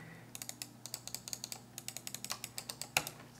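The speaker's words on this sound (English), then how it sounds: "you can definitely hear a lot of clicking." Rapid clicking of a Logitech MX Master 3 mouse, a long run of sharp, close clicks at an irregular quick rhythm, with one louder click near the end.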